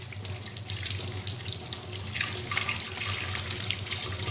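Tap water running steadily over a pumpkin being washed in a kitchen sink, a continuous close splashing rush with no talk.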